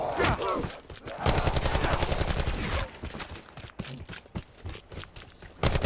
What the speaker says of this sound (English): you just need to start shooting it with a pack-a-punch gun that has kilowatt